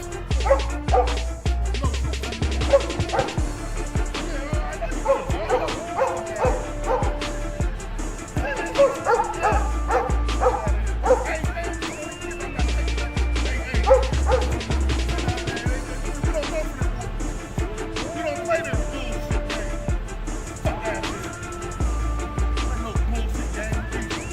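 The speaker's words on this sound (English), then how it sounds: "We got dogs." Several dogs bark, yip and whimper repeatedly throughout, loud and close, in a busy outdoor scene with people talking and rustling noise in the background.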